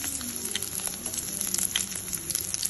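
Cumin seeds and coarsely crushed garlic frying in oil in a kadai for tomato rasam, giving a steady close hiss and crackle of sizzling with small pops, no talking.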